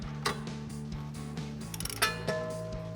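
A 1994-2004 Mustang's suspension is being worked on as a wrench spins off the nut holding a brake line bracket, making quick ratcheting clicks and metallic taps over steady background music.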